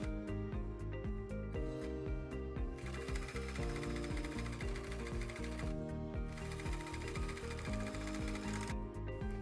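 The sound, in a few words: sewing machine stitching hoodie seams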